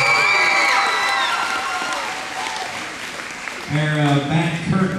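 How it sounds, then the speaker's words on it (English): Applause from an elementary school musical audience, a dense broadband clatter filling the first few seconds, with voices singing or talking loudly over the end. "so give her a big round of applause"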